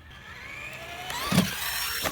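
A Traxxas Slash 2WD RC truck with an XL-5 speed control runs on a 2S LiPo, its motor giving a thin rising whine that swells into a brief louder burst and rattle near the end.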